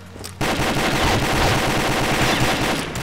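Dense, rapid bursts of video game gunfire, automatic and continuous after a brief quiet start, loud and close with no talking.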